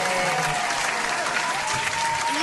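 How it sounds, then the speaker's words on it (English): Audience applause for a hair stylist, the salon owner introduced at a prom sponsorship event; steady, dense clapping fills the whole stretch without break, with faint music tones running underneath. "Let's give her a round of applause."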